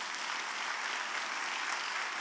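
Church congregation giving a loud, steady round of applause, dense clapping filling the room continuously without pause.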